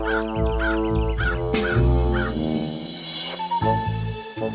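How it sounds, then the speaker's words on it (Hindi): Repeated crow caws ring out over a loud, sustained musical backdrop, several harsh calls spaced across the passage. "उस पेड़ के पास एक और पेड़ था जिस पर एक कौवा रहता था।"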